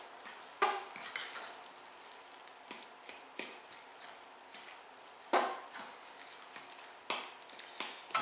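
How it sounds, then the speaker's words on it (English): A utensil stirs two beaten eggs into zucchini fritter batter in a bowl, giving quiet, irregular clinks and taps against the side, close and alone. "Stir that in."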